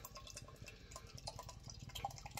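Raspberry cream soda beer is poured into a glass, a faint, close liquid trickle and fizzy splashing that runs steadily, with no talk.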